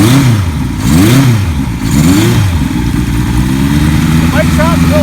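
A 1976 Kawasaki KZ900A motorcycle engine catching and revving up and down several times close by, then settling into a steady idle, with a voice talking over it.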